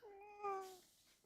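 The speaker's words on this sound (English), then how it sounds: "Meow. Is that the cat?" A domestic cat gives a single clear meow with a rising then falling pitch, close and fairly quiet, lasting about a second with no talking over it.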